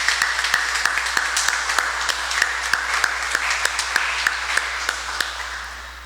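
A church congregation applauds at Mass, a moderate stretch of sharp, distinct handclaps over a low steady hum, gradually tapering off.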